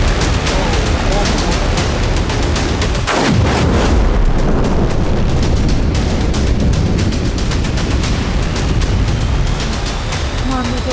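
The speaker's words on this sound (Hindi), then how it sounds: "अमेरिकी बम धमाकों से ईरान का फोर्डो न्यूक्लियर साइट धुआं हो गया" Heavy, continuous booming blasts and rumbling from US air strikes on Iran's Fordow nuclear site at midnight fill the recording, loud and dense with overlapping detonations and crackling, without let-up.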